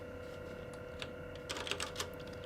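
Fingers type on a computer keyboard, the keys clicking quietly and irregularly over a steady electronic hum, with a short quick cluster of keystrokes partway through.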